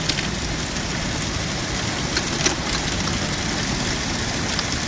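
Heavy rain lashes down with strong gusting wind in Baramati, tossing trees during the first rain of the season; a dense, steady broadband roar that stays loud and unbroken throughout.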